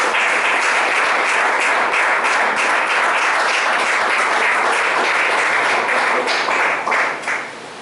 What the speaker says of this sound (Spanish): Hermanos, ¿cuánto aplauden al Señor?